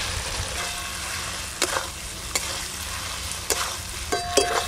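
Fried potatoes being stirred into a cooked-down spice masala in an oily pan, a steady sizzle with several sharp spoon scrapes and clinks spread through, close and alone with no talk.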